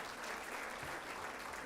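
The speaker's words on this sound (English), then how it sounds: "please give her a round of applause" Steady applause from an audience honoring an International Women of Courage awardee at a forum on women, peace and security, a dense even wash of clapping that holds at one level throughout.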